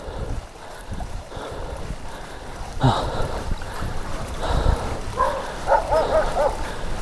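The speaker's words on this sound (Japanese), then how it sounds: "犬だ。" A dog barks somewhere below a mountain road on a cycling trip between Nakanojo Station and Sawatari Onsen: a few faint, distant yips in the second half, partly masked by gusty wind noise on the microphone.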